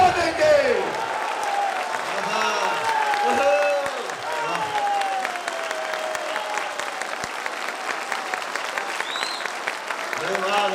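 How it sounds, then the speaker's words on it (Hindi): Thunderous applause from a poetry recital audience at a Hindi kavi sammelan, dense sustained clapping filling the hall throughout, with a voice speaking faintly underneath. "तिरंगे के सम्मान में राष्ट्रभक्तों द्वारा ऐसी गड़गड़ाहट की तालियां सुनकर"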